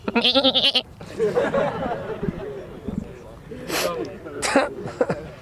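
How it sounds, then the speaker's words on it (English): A goat bleats loudly and close at the start in a wavering, quavering cry, followed by talking, throat clearing and short coughing or sneezing bursts. "The final goat."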